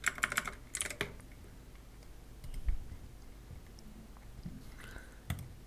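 Soft clicks and light tapping from a computer keyboard and mouse, a short flurry at the start then sparse faint clicks over a quiet background hiss, with no talking.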